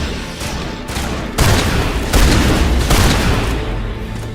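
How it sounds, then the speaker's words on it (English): In the Mass Effect video game, a Spectre shotgun fires several heavy blasts about a second apart, with loud booming shots over the game's constant combat noise and nobody talking. "Dude, that shotgun does damage."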